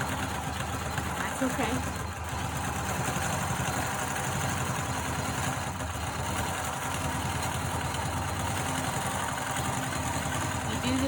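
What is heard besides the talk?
sewing machine stitching a quilt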